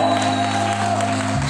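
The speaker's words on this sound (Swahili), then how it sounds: "Shangwe na vigelegele" A church congregation at a Swahili gospel service cheers and claps in a dense, steady crowd roar, carrying high ululation over continuous applause for the whole moment.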